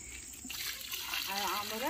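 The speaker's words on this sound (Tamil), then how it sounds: "ஊத்து ஊத்து தண்ணி ஊத்து." Water is poured onto a newly planted plant at home, a steady splashing gush that runs throughout and grows slightly louder toward the end, with a voice speaking briefly near the start.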